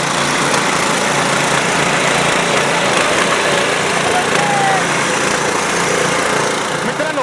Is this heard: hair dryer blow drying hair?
no